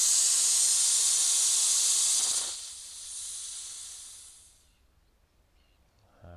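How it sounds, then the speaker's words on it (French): Pressurized gas hisses loudly from a gas bottle hose after the bottle valve is shut, a strong steady rush that drops off partway through and fades to near silence, with a small clunk at the end. "on laisse s'échapper le gaz qu'il y a dans le tuyau."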